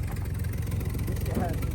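A Dodge Dart engine with an exhaust leak runs close by in a steady, rough, low rumbling idle with a puffing exhaust pulse, and a voice speaks over it.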